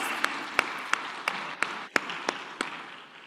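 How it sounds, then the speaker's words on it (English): Applause fills the room at a meeting of African ministers' experts, a steady bed of many hands clapping with a few sharp, louder claps standing out at regular intervals before it tapers off. "Can we give them a round of applause?"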